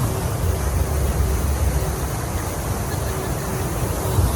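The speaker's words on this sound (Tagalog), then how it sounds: "Nakabukas lang ng mga fountain" A fountain that has just been switched on sprays water in a loud, steady hiss that rushes on without a break.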